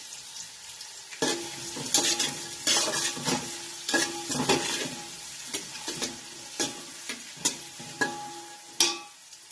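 Four large finely chopped onions drop into well-heated oil in a pan for pav bhaji. A sudden loud sizzle follows, then repeated scraping stirs with a spoon against the pan and bursts of frying crackle.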